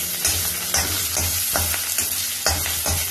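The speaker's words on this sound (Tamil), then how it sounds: "வாணால கடுகு, உளுத்தம்பருப்பு, பெருங்காயம், சேப்பு மிளகா, பச்சை மிளகா, கருவேப்பிலை எல்லாத்தையும் போட்டு இந்த மாதிரி தாளிச்சுக்கணும்" Mustard seeds, urad dal, asafoetida, red and green chillies and curry leaves tempering in hot oil, a close crackling sizzle with rhythmic stirring scrapes about twice a second.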